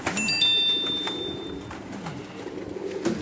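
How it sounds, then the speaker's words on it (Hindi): Teddy pigeons coo softly in a loft, low murmuring calls repeating close by, with faint chirps and background rustle. "क्या खूबसूरत और क्या ज़बरदस्त कबूतर है जी।"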